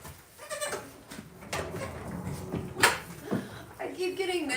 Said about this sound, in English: I keep getting this goat mixed up with the little sister goat.